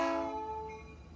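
A PeruRail Vistadome train arriving at a station on the Ollantaytambo to Machu Picchu line sounds one short, tonal horn blast that fades quickly, heard alone without talk.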